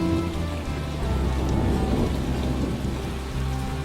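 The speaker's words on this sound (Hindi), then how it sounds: "वह तड़कती बिजली और तेज बारिश में अपनी गुफा को छोड़कर गांव की ओर निकल पड़ते हैं।" Thunderstorm with heavy rain and lightning: a dense, steady wash of rainfall with a deep rumbling thunder bed underneath, continuous and fairly loud with no voices.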